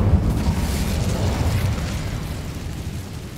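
A fire spell blast in the video game Hogwarts Legacy roars out as a loud, sustained explosive whoosh with a deep rumbling body that holds steady and fades only slightly over a few seconds.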